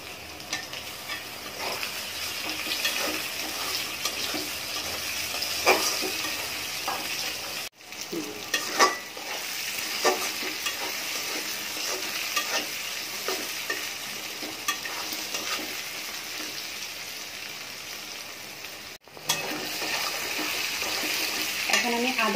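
Tomato fries with spice paste in a pan for egg bhuna, sizzling steadily up close as a utensil stirs and scrapes through it, with two short breaks in the noise.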